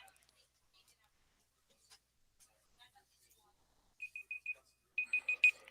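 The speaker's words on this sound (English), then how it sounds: "All right, that is the end of our timer." A match timer at a high school VEX robotics competition ends with two short bursts of rapid electronic beeps, four quick pulses each, clear above a quiet room with faint scattered noises.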